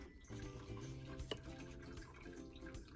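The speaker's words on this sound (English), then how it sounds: "I finished washing the gloss in the tube" Lip gloss tubes being washed in water in a sink, a soft running trickle with scattered drips and one sharp clink midway, quiet and close with no voices.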